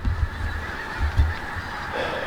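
Geese honk repeatedly among a flock of fowl outdoors, loud calls overlapping in uneven bursts.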